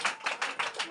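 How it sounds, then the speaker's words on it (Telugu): An audience at a Christian sermon claps together in quick, steady bursts, about five hand claps in a second, moderately loud and with no voice over them. "గట్టి క్లాప్స్ కొట్టండి, ఒకసారి కొట్టండి."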